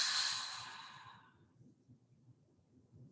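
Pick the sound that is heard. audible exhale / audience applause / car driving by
audible exhale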